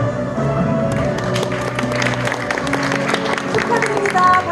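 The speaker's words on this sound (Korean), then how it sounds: "축하드립니다. 박수 부탁드립니다." Audience applause rises at an energy-transition forum's first-anniversary award ceremony, scattered clapping building under an indoor room tone with a brief voice and some music-like tones early on.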